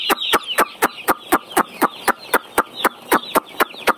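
Broiler chickens in a poultry shed answer a farmer's call with a fast, regular run of sharp fowl-like pulses, about three each second, close and fairly loud with no voices over them.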